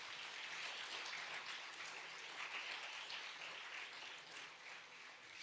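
A church congregation applauds with continuous, fairly faint clapping from many people, a steady wash of hands that holds evenly until the end.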